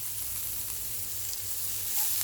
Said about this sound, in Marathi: आता आपण कारल्याची बारीक केलेली काप याच्यामध्ये घालूया.